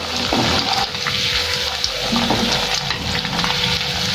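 Potato wedges deep-frying in hot oil, a loud close bubbling sizzle with stirring and liquid churning, steady throughout without voices.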